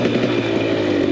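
A KTM 300 XC dirt bike on a trail ride at NATRA in West Point, Tennessee, holds a loud, buzzing engine drone close by, steady and unbroken for the whole moment.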